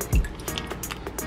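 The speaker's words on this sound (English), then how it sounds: "And the hot water from the kettle," Hot water poured from a kettle while making ramen, a short liquid splash and trickle with a faint clink, heard close and alone.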